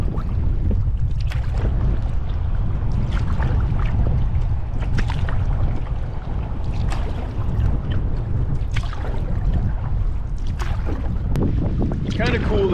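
A canoe paddled along the French River, with rhythmic splashy paddle strokes repeating every second or so over constant wind rumble against the microphone.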